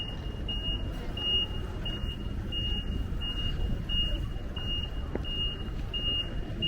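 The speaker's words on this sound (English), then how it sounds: "I'm almost on the verge of getting hit by trucks and cars." Steady street traffic of cars and trucks in Porto, Portugal, a continuous low rumble with a repeating high electronic beep, like a reversing alarm, pulsing throughout.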